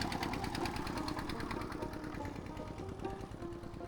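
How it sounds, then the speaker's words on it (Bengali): A small boat's engine chugs steadily on the Brahmaputra river, a low continuous drone with a fairly even rhythm that holds at a moderate level throughout, with no talk over it. "নদীর ঢেউ, নৌকার শব্দ আর প্রবহমান নদী"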